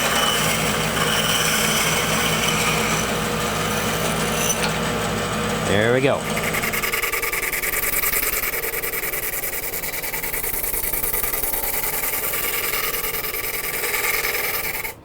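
Bandsaw cutting a wooden dish blank, a continuous close whine and hum with a brief pitch sweep as the blade slows and restarts, while someone speaks briefly.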